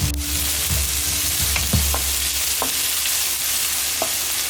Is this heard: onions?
yes